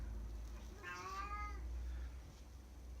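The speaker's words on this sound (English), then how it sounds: "Cat in the background." A house cat gives one clear, drawn-out meow in the background of a quiet indoor room, set against a low steady hum and faint noise.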